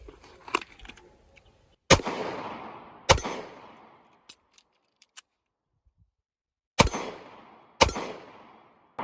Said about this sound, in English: I've got 2 rounds in the gun, 1 in the chamber, 1 in the mag. Bang, bang, reload, bang, bang.